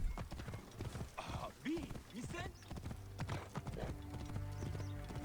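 A horse's hooves clip-clop at a steady walking rhythm in Assassin's Creed Origins, with a brief whinny, while someone talks over it.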